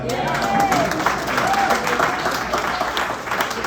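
Moderate crowd applause at a public meeting, a steady patter of many hands at middle distance with a few voices and whoops mixed in.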